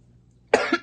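A single short cough bursts out after a moment of near silence, close and sharp.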